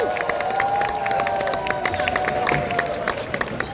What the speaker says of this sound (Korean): 박수로 힘차게 맞이해 주십시오.